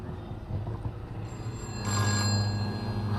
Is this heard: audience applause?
no